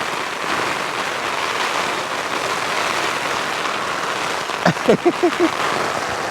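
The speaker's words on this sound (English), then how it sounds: "you can see that rain is falling here" Steady rain falling outdoors on Dartmoor at a wild camp with a bivy bag and poncho, a dense continuous hiss of drops on surfaces, with a short burst of rustling or voice-like sounds near the end.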